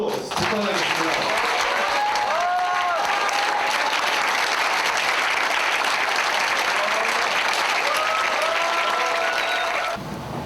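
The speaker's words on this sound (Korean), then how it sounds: "다시 한번 힘찬 박수 부탁드리겠습니다" Wedding guests applauding, a loud continuous wash of many hands clapping at close range, with voices and cheering audible through it, holding steady before cutting off at the end.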